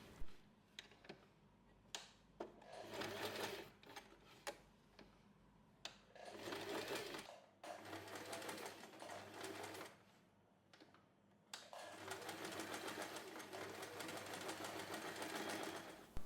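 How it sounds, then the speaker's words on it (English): A sewing machine top stitches around the edge of a small snap wallet keychain, running in several bursts of steady whirring separated by short pauses and clicks, close and clear with no talk. "top stitch around the edge"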